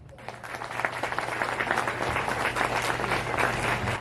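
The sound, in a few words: audience applause at a ceremony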